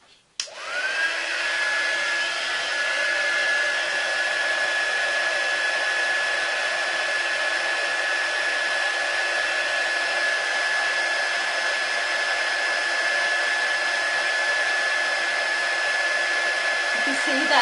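A heat gun blows steadily on shrink wrap around a hamper, a loud continuous whooshing hiss with a faint high whine that starts abruptly and holds at even strength, with no talking.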